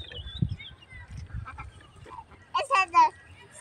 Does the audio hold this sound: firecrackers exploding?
no